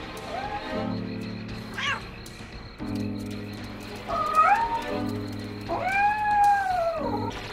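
A hungry cat meows several times, drawn-out rising and falling cries that grow louder toward the end, close by.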